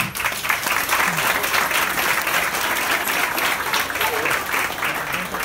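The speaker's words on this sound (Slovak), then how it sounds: "tak vítajte, zatleskáme im." Crowd of children and adults at a youth hockey school camp breaking into loud, dense, sustained applause, close and continuous with no talk over it.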